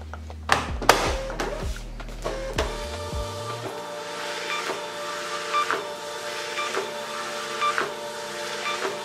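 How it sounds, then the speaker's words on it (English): Expensive studio printer running close by, with heavy mechanical clunks and whirring at the start, then a steady rhythmic series of soft clicks and rolling feed noises over a low hum. "This printer right here"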